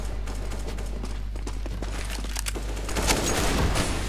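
Scattered gunfire in Counter-Strike: Global Offensive on the Dust map: several sharp shots crack fairly faintly over a constant low hum, and the shots grow denser toward the end.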